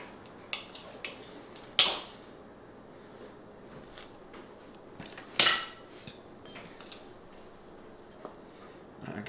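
A knife cuts a small piece from a loaf of keto lemon bread, giving a few sharp, isolated scrapes and clicks against the plate in a quiet room.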